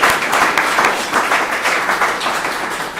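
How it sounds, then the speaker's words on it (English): Audience applause for two volunteers at a community show-and-share gathering: a dense, steady wash of clapping from a crowd, loud and continuous for the whole stretch with no voices over it. "I'd love to get him to get a round of applause for the parking job and the front door"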